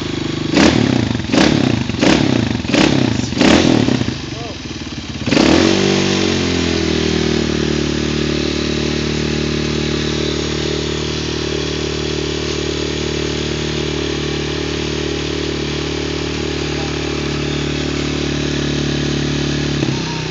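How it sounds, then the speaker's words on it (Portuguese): A child's small motocross motorcycle revs in several sharp, rapid bursts, then accelerates away into a sustained, steady high-pitched engine drone, close and loud with no talk over it. "Acelera, Lucas. Acelera"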